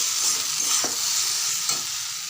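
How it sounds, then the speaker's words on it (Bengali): Potatoes and okra frying together in a pan give a close, continuous hiss of sizzling oil, broken by a couple of brief scraping stirs. "এরকম আলু দিয়ে ভেন্ডি দিয়ে ভাজাটা হচ্ছে"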